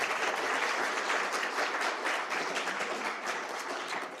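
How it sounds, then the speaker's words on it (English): A conference audience applauds, giving a sustained, fairly distant wash of many hands clapping that fades slightly toward the end. "Applause to them"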